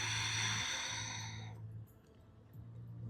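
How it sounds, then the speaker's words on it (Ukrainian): A deep, slow exhale during yoga breathing practice, a soft breathy rush that tapers off, close and quiet over a low steady hum. "Глибокий вдих. І видих."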